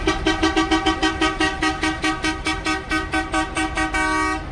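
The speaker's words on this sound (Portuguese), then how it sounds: "Quanto que custa essa buzina?" A loud, tuneful bus horn honks in a rapid rhythmic series of short blasts, then holds one long final note, close by with no talking, at a bus festival.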